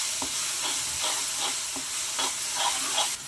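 Ghee sizzling in a pan while a ragi kozhukattai filling is prepared, a continuous bright frying hiss broken by soft stirring scrapes at irregular intervals.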